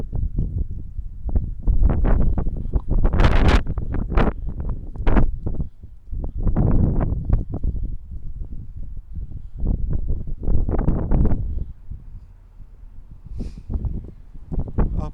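Gusty wind buffets the microphone outdoors on a chilly day near a double stone arch bridge over a creek, coming in loud, rumbling bursts with brief lulls, with no voices.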